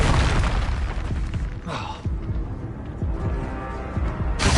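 Bombarda and Confringo spell explosions in the video game Hogwarts Legacy, a run of heavy booms and bursts in quick succession during combat, loud and dense, with a sharp blast near the end and shouted voices mixed in.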